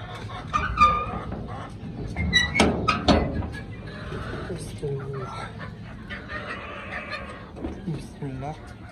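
Chickens in a rooftop coop cluck and squawk in scattered bursts, some close and loud, with a few thumps and someone talking over them.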